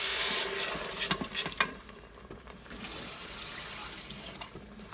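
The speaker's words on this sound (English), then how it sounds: "pour some water in here." Water pouring from a faucet or container into a cooking pot holding turkey wings, a steady splashing stream with a few sharper gurgles and clinks, loud and close before it tapers off.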